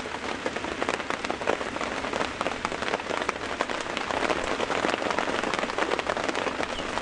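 Heavy rain drums steadily on the surfaces around an open safari vehicle during a morning game drive at Djuma and Arathusa, a dense, loud, unbroken patter with no talking.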